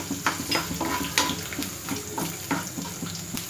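Garlic and urad dal frying in a pan for curry leaf chutney, giving a steady close sizzle with irregular crackles and the occasional scrape of stirring, and no voices over it.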